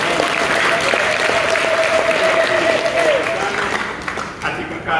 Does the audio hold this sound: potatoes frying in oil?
no